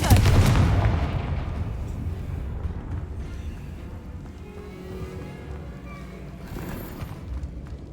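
A Confringo blasting spell detonates in the Hogwarts Legacy video game, a loud booming blast at the start that decays into a long rumbling tail, followed by scattered quieter game sounds.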